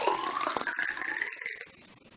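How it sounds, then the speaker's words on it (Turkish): Water is poured into a container while vitamin drops are prepared for budgerigars, making a steady splashing, filling sound with a rising pitch that fades toward the end. "Şimdi görmüş olduğunuz gibi suyu ekliyoruz."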